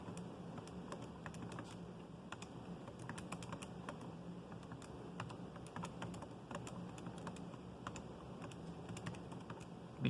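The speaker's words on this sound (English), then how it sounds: "We type in our calculator, remember the EE button." Rapid, irregular clicking of buttons pressed on a calculator while entering numbers, fairly quiet and close, with a steady low background hum and no talking.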